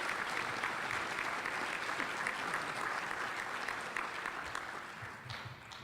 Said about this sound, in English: let's offer him a round of applause